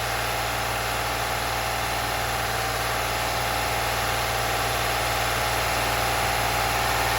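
A Lexus RX engine idles steadily with a constant low rumble and faint vibration, unchanging throughout, with no voices.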